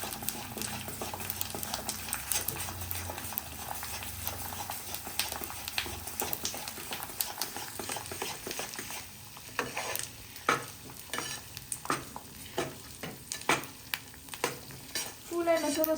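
Edible gum (gond) roasts in flour in a pan for postpartum katla laddoos, a soft continuous sizzle broken by scraping stirs that grow more distinct and rhythmic toward the end. A voice is faintly heard at times.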